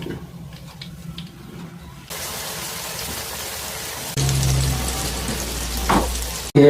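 Snakehead fish frying in a pan gives a steady hiss and crackle of hot oil that grows louder in stages, ending with a sharp close clatter.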